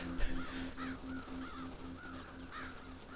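Crows caw about six times in quick succession in the Red Dead Redemption video game, their harsh calls rising over a steady low in-game hum.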